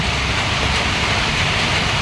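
Steady, loud rain pours at a house in Palawan, a dense continuous hiss with no pauses and no voices.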